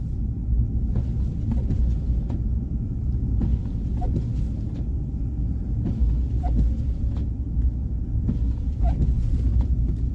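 Steady low road rumble of a car cruising along a road during a Pennsylvania snow chase, continuous and close, with faint intermittent clicks and no talk.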